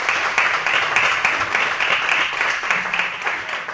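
Audience at a university debate tournament giving a round of applause, bright continuous clapping from a crowd held at steady loudness for a few seconds.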